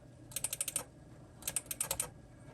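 Rapid clicks on a Mac keyboard or mouse come in two quick bursts of about five sharp taps each, close and crisp, separated by a short pause over a quiet background.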